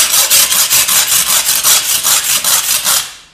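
Rhythmic, fast scraping strokes on a rustic wall tile surface, loud and close, a steady back-and-forth rasp that stops abruptly at the end.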